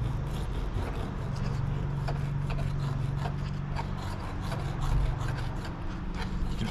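A knife scrapes and rasps steadily along the backbone of a banjo shark, separating a fillet from tough skin, close up under a low background hum, with no talking.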